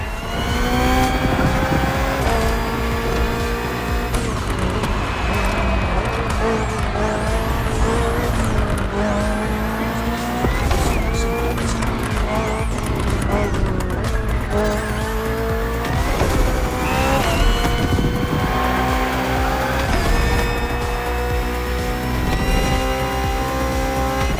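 A BMW Hybrid V8 race car in The Crew Motorfest racing game roars loudly and continuously, its engine pitch climbing and dropping through repeated gear shifts, with tire squeal and skidding woven throughout.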